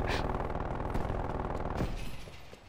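Rapid automatic gunfire in a video game, a fast rattling burst of shots running almost two seconds at moderate loudness, then trailing off into quieter game sounds.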